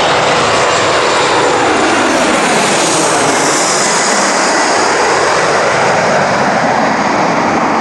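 An airplane passes overhead with a loud, steady engine roar that fills the whole clip and swells slightly as it comes nearest. There is no talking.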